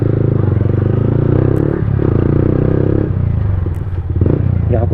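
A Yamaha R15M motorcycle fitted with an Akrapovic exhaust rumbles loudly and continuously while riding, a deep pulsing exhaust note that swells and eases slightly, with faint voices in the background.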